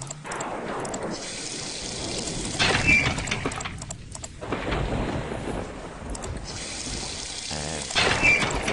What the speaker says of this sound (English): Flush toilet.